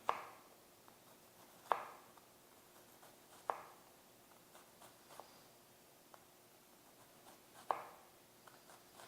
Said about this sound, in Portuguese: Mantenho dois dedos para estruturar bem a cebola e venho com o corte mais limpo possível.